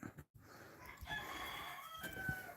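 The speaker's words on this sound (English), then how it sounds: "The rooster's up early." A rooster crows on a foggy early morning, one fairly faint, drawn-out call heard from a moderate distance over a low background hum.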